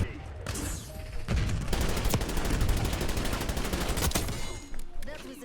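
Rapid hip-fire gunshots from Black Ops 6 rattle out in dense, loud bursts, near and continuous for several seconds with short gaps and sharp individual cracks.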